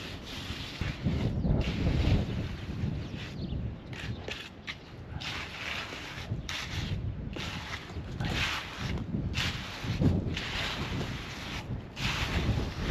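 Gusty wind buffets the microphone in uneven rushes, a loud rumbling roar that swells and drops throughout.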